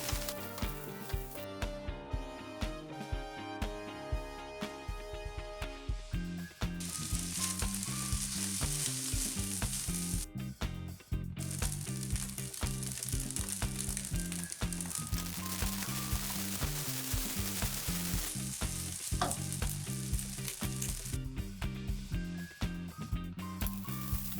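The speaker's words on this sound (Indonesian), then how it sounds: "tumis bawang bombay hingga layu" Onions sizzle and crackle steadily as they are stir-fried in a hot pan, with intermittent scraping and stirring clatter up close, no voices.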